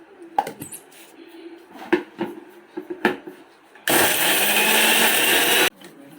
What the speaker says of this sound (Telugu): ఇప్పుడు ఇవన్నీ మూత పెట్టుకొని మిక్సీ పట్టుకుందాము.